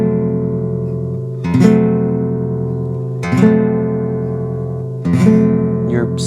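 Flamenco guitar played with a light thumb strum sliding down across the strings: three ringing chord strokes evenly spaced about two seconds apart, each sustaining and fading before the next, close and clear with no talking.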